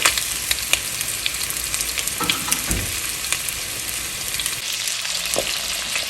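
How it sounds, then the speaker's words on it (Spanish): Longaniza sausage fries in a splash of oil in a pot, giving a steady crackling sizzle with occasional louder pops and stirring scrapes, fairly close, with no voices. "En una cacerola vamos a agregar un chorritito de aceite y voy a agregar la longaniza."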